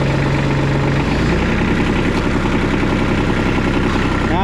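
A New Holland tractor engine runs steadily in second gear, a constant low rumble with a mid-range drone. A low tone sits under it in the first second before the pitch shifts. The engine stays loud and close throughout.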